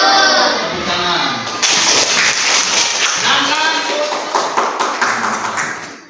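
A school class claps hands together in a classroom, a burst of loud, fast, ragged applause that starts after a brief spoken prompt and fades toward the end, with children's voices faintly underneath.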